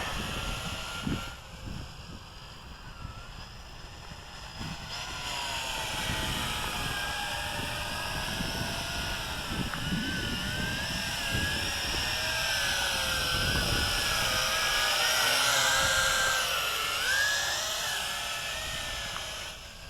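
A JJRC H16 Tarantula X6 hexacopter drone carrying a RunCam flies light circles and loops outdoors in gusty wind, its rotors giving a steady high-pitched whine that wavers and rises in pitch as it maneuvers, continuous and fairly close.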